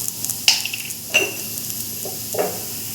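Sliced onion and curry leaves fry in a pan with cumin, giving a soft, steady sizzle close by. Three sharp metallic clinks from a utensil against the pan break through it.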